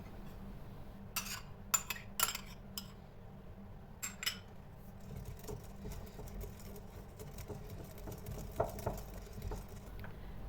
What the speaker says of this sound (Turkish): Kaseye kremayı ilave edip tekrar karıştıralım